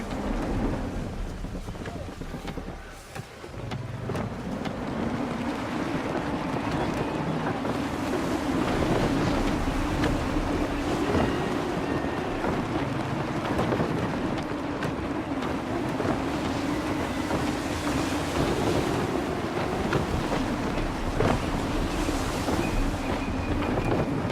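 Gusty wind and rolling waves while sailing a ship in Assassin's Creed 3, a steady broadband roar of wind and surf with low water rumble throughout, full and close, with brief faint voice hints.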